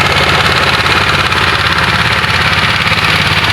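A power tiller engine runs in a muddy village field, a loud, close and steady chugging drone with a knocking throb that continues without a break.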